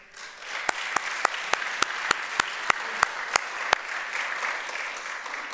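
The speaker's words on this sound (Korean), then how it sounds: "여러분, 크게 한번 박수 하실까요?" Church congregation applauds loudly, a broad roar of clapping punctuated by a dozen sharp, evenly spaced claps in unison before settling into a steady wash of hands.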